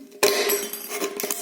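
A sharp metallic clank as pruning shears strike a metal can while making a camping stove, followed by a brief ringing rattle, close and alone.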